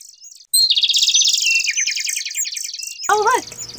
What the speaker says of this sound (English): I love seeing all the different kinds of birds at the feeder.